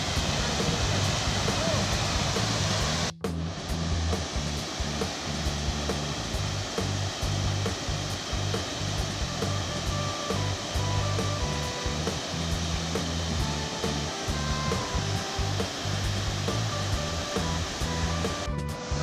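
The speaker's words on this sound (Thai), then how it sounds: "น้ำตกตรงนี้ครับ" A waterfall in southern Laos roars as a steady, loud broadband rush that fills the whole clip, with voices talking faintly over it.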